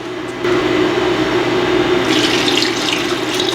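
Tap water pours steadily and loudly into a pot of meat set to boil in a home kitchen, a continuous rushing splash that swells brighter partway through, with no talking.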